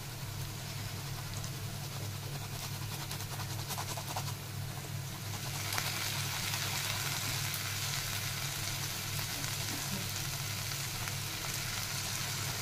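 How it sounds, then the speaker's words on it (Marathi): Onion fries in a pan for prawn khima, a steady close sizzle and crackle that runs without a break for over twelve seconds and turns slightly brighter partway through. "आपल्या एका साईडला कांदा सुद्धा आपला भाजतोय"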